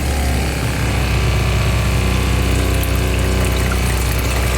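A boat engine runs steadily during a saltwater cooling system flush, a loud continuous mechanical drone with watery pumping and churning throughout, close by and with no talking.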